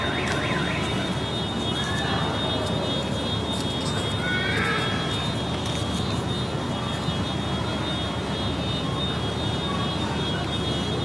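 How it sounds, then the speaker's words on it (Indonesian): A continuous electronic alarm keeps ringing through the room during a Ramadan religious gathering, a steady high tone running the whole time over a dense, noisy background. "Oh, alarm."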